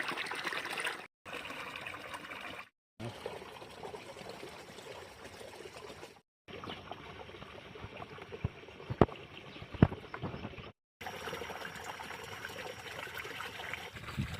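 Tap water runs steadily while 1.5 kilos of prawns are washed by hand for a village-style Nellore prawn biryani, a continuous trickling splash with short breaks where the flow stops.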